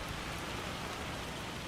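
Steady rain falling in the Farming Simulator 25 game, a dense even hiss of drops on surfaces with no pauses or voices.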